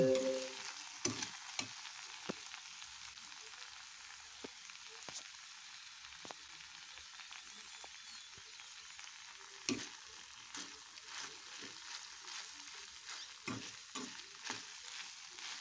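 Okra stirred in a frying pan with ginger garlic paste: a steady background sizzle broken by intermittent sharp scraping clicks of a spoon against the pan, close up and moderately quiet, with no talking.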